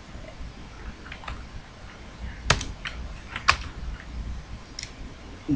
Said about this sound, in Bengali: আমি একটু লিখে দিচ্ছি